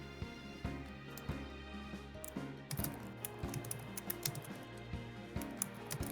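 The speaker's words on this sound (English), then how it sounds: "I can hear you typing." Keys click rapidly and irregularly on a keyboard nearby, over a low steady hum.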